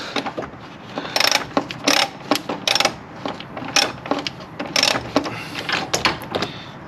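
Ratchet wrench backing out a 17 mm bolt on the engine mount bracket of a 2003-2007 Honda Accord, giving a run of quick, close metallic clicks in uneven bursts with no talking.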